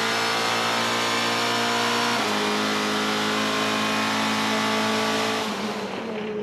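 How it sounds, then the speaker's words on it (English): GTC series race cars at Killarney circuit, heard as a loud engine screaming at high revs that shifts gear twice, sustained and close with no talk. "Hold on tight as we go to the races with young Rowe."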